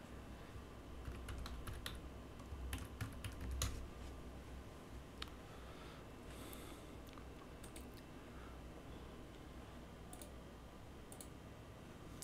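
Someone types an ID and password on a computer keyboard, producing a steady run of soft, quick key clicks with a few louder taps, close and fairly quiet over a low room hum, with no talking.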